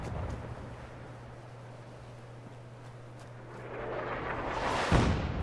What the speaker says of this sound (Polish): jest eksplozja.